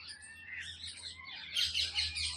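Small birds chirp and tweet continuously outdoors, bright overlapping calls that rise louder near the end over a low steady hum.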